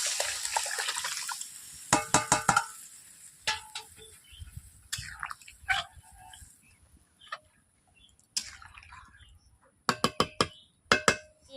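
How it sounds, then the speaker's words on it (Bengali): Water poured over paneer in a pan and stirred, a soft early splash followed by clusters of sharp metallic clinks and scraping against the pan, close and intermittent, with a few low voice murmurs. "অল্প করে হালকা করে আমি জল দিয়ে দিচ্ছি, এইভাবে নেড়ে নেব"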